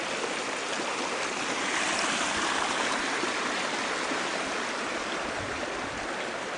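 A creek flows steadily outdoors in a broad, even rush of water, close and continuous with no voices.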